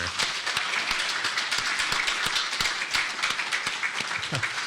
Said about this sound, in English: Let's give Carson a round of applause here.